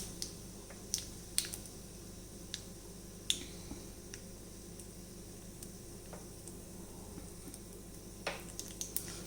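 Mustard seeds splutter in hot oil in an iron pan, scattered sharp pops and crackles over a faint background sizzle, irregular and close.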